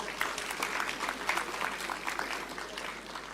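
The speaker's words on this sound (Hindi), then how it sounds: "ये है ताली बजाने की चीज" An audience at a business conclave in Delhi breaks into steady applause, a moderate wash of clapping that continues evenly and fades slightly at the end.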